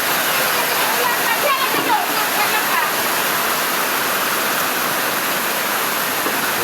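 Heavy rain pours loudly and steadily, a dense unbroken roar close by with water running and dripping indoors, while a person speaks briefly over it.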